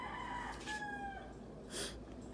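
A rooster crows at a distance, its drawn-out call rising and falling over a quiet outdoor background.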